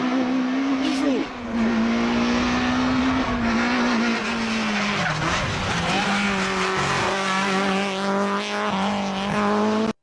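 A rally car drives hard through a special stage, its engine droning steadily near and loud as the pitch rises and falls through gear changes, with occasional tire squeal over the continuous roar.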